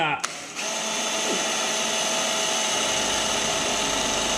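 A power drill runs continuously at high speed, drilling holes on a mini excavator, a loud steady whine close by after a brief start-up, with no pauses.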